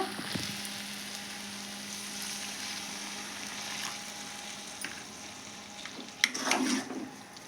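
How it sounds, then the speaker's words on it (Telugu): Bitter gourd curry frying in a pan on high heat gives a low, crackling sizzle, and water poured in near the end sets off a brief louder hiss and bubbling burst, with faint clinks earlier. "వాటర్ ఇస్తానండి కొద్దిగా"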